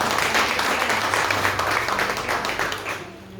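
A church congregation claps together during a sermon, a loud dense wash of many hands clapping steadily before easing off toward the end.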